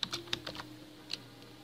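Several quick, light keystrokes on a computer keyboard close to the microphone, an uneven burst of clicks followed by one last tap, with no talking.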